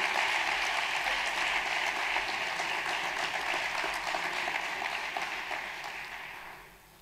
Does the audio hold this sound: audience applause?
yes